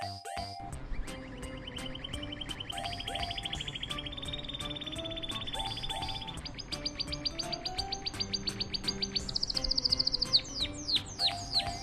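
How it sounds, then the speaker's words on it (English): A bright yellow canary sings a long run of rapid chirps and trills, with sustained rolling notes and quick repeated tweets that climb in pitch, close and clear with no voices. "I'm the canary. With my bright yellow feathers and cheerful songs, I'm here to spread happiness wherever I go."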